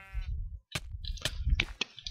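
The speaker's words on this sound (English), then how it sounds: "Why are there so many sheep?" Sheep in Minecraft bleat several times in quick succession, close and clear, with short pauses between the calls.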